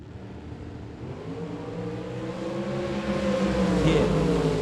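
A winged dragster roars down the Las Vegas drag strip at a bracket race, its engine note climbing steadily and growing louder over nearly five seconds.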